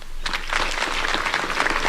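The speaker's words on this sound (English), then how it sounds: "let me also invite this gathering here to extend a round of applause to" A gathering at a formal ceremony breaks into brief, dense applause, many hands clapping together at close range with no talk over it.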